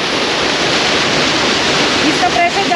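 Water-powered gharat flour mill running, with loud, steady rushing water from the stream driving it, a continuous broadband roar that fills the whole clip.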